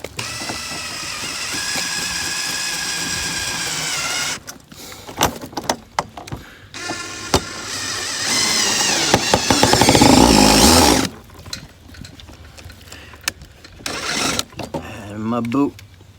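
A power drill driving screws into a wall to mount a garden hose reel whirs in several bursts of varying length, with gaps and a voice speaking between runs, close and fairly loud; the drill bit strips out.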